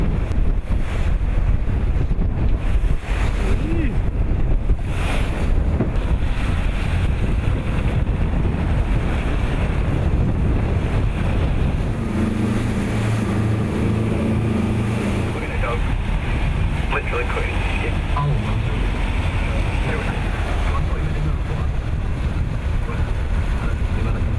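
Strong wind buffets the microphone over choppy sea waves slapping a boat leaving Lossiemouth, with a low engine drone running underneath throughout.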